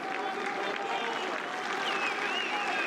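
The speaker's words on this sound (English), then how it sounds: "they applaud him for that" A stadium crowd at a UEFA Youth League final football match applauds steadily for a substituted captain, producing a dense, even wash of clapping with faint commentary underneath.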